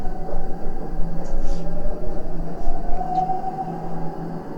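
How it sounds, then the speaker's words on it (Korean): A subway train running, with a loud low rumble, a steady mid-pitched tonal whine and screeching rising over it, heard without noise cancelling and continuous throughout. "다음으로 지하철 소리도 한번 볼까요?"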